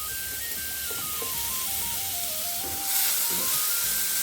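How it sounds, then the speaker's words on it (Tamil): Carrots sautéing in ghee in a pan over a low flame make a soft, continuous sizzle and hiss, with a faint wavering melody running underneath. "அதே நெய்யில் நம்ம வந்து இந்த கேரட்டை இது பண்ணிக்கலாம்."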